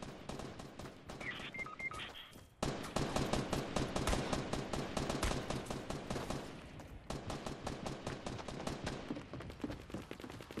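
Rapid automatic gunfire from a Fortnite match, with dense bursts of shots that run nearly continuously, a short pause and a small chime early on, then more sustained firing at close range.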